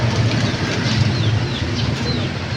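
Continuous fluttering of pigeon wings close by, a busy flapping texture over steady background rumble, with faint chirps now and then.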